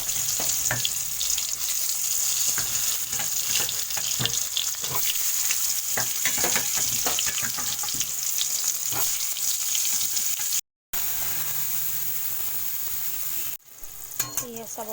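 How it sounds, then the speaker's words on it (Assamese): Vegetables frying in hot oil with turmeric and salt, a loud continuous sizzle with crackles and stirring clicks throughout, cut by two brief silent gaps. "তেলটো গৰম হৈ গৈছে এইটো মই এতিয়া বহাই দিম আপোনাৰ ভাজিটো"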